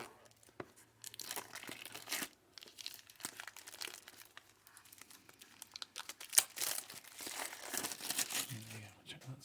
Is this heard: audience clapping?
no